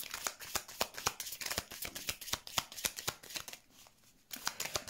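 Angel oracle cards being shuffled and drawn by hand, a close, quick run of crisp riffling flicks with a brief pause before more shuffling, no talking.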